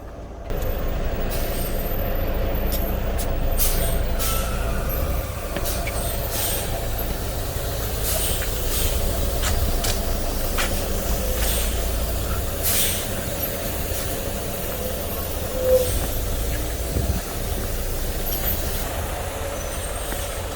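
A chartered bus pulls out through a narrow street, with a steady low engine rumble, scattered sharp hisses and clicks of air brakes, and a faint squeal, heard close from inside throughout.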